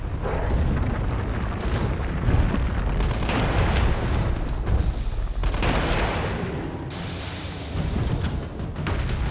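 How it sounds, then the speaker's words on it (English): Rocket launcher blasts in Resident Evil 3 during the Nemesis fight, a continuous barrage of loud booming explosions and roaring fire, dense and close with brief dips between detonations. "And then infinite rocket launcher."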